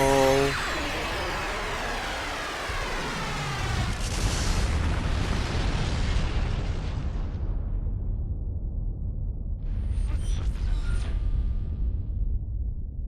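A huge cannon in Fuga: Melodies of Steel 3 fires with a loud, deep boom that rolls into a long rumbling decay, followed near the end by a few faint metallic clanks.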